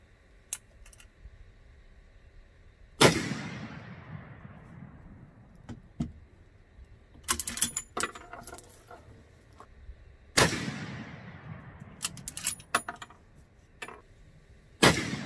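Two loud, close .45-70 rifle shots firing 300-grain jacketed hollow points, each a sharp blast with a long decaying rumble, spaced several seconds apart, with metallic clicks and clatter from working the action in between.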